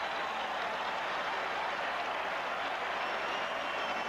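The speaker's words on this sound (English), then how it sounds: "The crowd will let you know how they feel about it." A stadium crowd in Dallas roars after Dennis Thurman's third interception of the day in a football game: a dense, continuous wash of cheering and applause, loud and sustained throughout with no single voice standing out.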